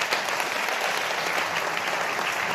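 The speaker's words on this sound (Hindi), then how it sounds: "जोरदार ताली बजाते हुए परमेश्वर की महिमा करें।" A church congregation applauding hard and steadily, a dense, loud wash of clapping that runs without a break the whole time.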